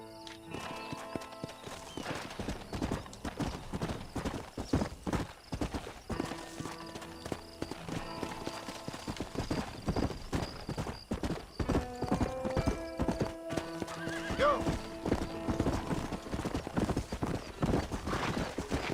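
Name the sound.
horse hooves in the video game Red Dead Redemption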